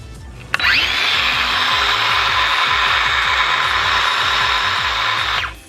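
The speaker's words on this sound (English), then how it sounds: "Cordless tool number 6, a circular saw." Cordless circular saw spinning up with a sharp start, running at a steady high whine for about five seconds, then winding down; loud and close with no voices.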